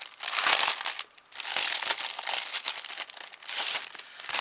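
Plastic wrapper on a product's packaging crinkles and crackles up close in bursts of handling as it is opened, with no talking.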